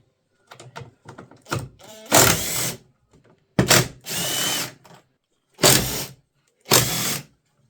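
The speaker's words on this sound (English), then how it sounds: "Next, let's remove the 4 T27 torx screws and remove the filter box completely." A power driver removes four T27 Torx screws from the filter box of a BMW E46 with the M47 110 kW diesel, sounding as a few short ratcheting clicks and then four loud, separate whirring bursts up close, with no talking.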